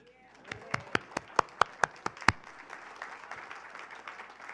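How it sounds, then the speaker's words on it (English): A small group claps briefly: sharp, evenly spaced claps, then softer scattered clapping that fades out. "cause for at least a round of applause"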